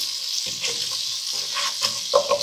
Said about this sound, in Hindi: इसमें ये जिंजर गार्लिक पेस्ट भी ऐड कर देना है। थोड़ा सा इसको प्याज के साथ फ्राई करना है